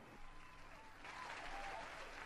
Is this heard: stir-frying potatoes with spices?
no